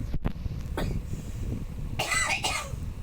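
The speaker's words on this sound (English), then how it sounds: "Sorry about my dad's coughing." A man coughs a few times nearby, rough bursts separated by pauses, with low background noise between.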